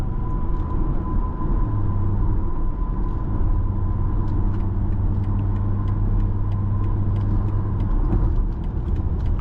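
A 2022 BMW X4 M40i cruising on the road, heard from inside as a steady low rumble of engine and tyres with faint road noise and small ticks, no talking.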